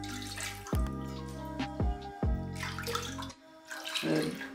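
Water splashes and gurgles steadily into a pot, with a few brief pauses and bumps, close and fairly loud; about six cups poured for sugar syrup.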